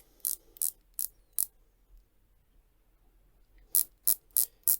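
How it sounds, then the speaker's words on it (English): Ceramic-insert 120-click dive watch bezel on a Submariner-style homage, turned in two bursts: four crisp, evenly spaced clicks, a quiet pause, then four more sharp clicks, close and alone. "when it comes to the bezel, got a ceramic insert on that, and it's 120 click"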